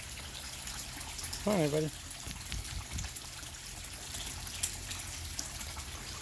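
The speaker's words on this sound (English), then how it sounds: "I'm draining some of the water right now because I want to do a water change" Water from a fish tank drains with a soft, steady trickle during a water change, low under a man's brief spoken words.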